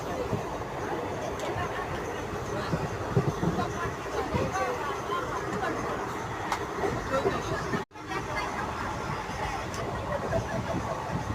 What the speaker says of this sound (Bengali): আমি ট্রেনে উঠে গেছি